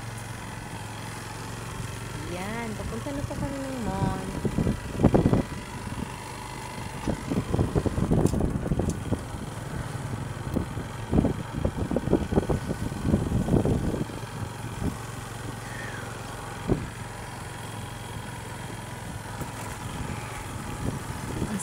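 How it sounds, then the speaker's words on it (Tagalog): Steady, fairly quiet engine hum of a motorcycle carrying riders toward a mall, with occasional wind buffeting and rattles. Someone talks briefly over the running engine. "Sasakay lang po kami ng motor."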